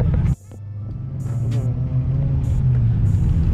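Race car engines rumble steadily after a sharp drop, a low continuous roar of cars passing at moderate speed on a parade lap, with some higher whine.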